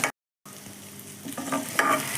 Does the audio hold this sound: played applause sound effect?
no